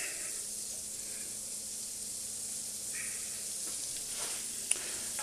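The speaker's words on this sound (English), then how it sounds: "Butter's on the pan, let's drop the garlic." Garlic sizzles in butter in a frying pan, giving a soft, steady hiss and crackle with a few faint pops and a small tap near the end, heard alone.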